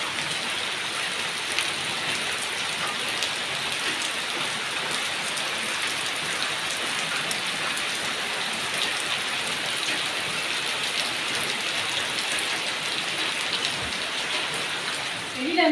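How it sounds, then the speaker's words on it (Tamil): Heavy rain pours down steadily, a dense continuous hiss of water with no pauses, loud and close throughout. "நைட்லேருந்து மழை சரியான மழையாக பெஞ்சிட்ருக்கு"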